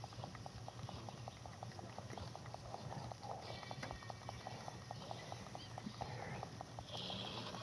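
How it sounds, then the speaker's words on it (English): Horse galloping in Red Dead Redemption 2, a steady rapid hoofbeat rhythm running throughout over a constant game ambience bed, moderately close and fairly loud. "Come on, horsey. Faster."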